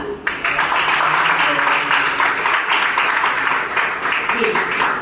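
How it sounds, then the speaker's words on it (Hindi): Sustained audience applause fills a felicitation ceremony in Hyderabad, a dense steady wash of clapping from a crowd, fairly loud and continuous throughout with some voices mixed in. "सबसे पहले इस नाम के लिए तालियां।"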